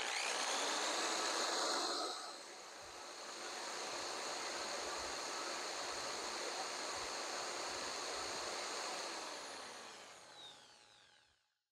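A hammer drill whines steadily at full speed for several seconds without drilling, with no other sound, then winds down and stops near the end.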